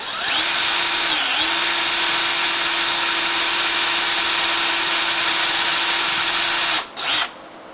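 A power drill runs steadily, drilling a hole in a tire rim to fit a large valve; the close, loud, continuous whine holds for about seven seconds, then stops briefly with a short burst near the end.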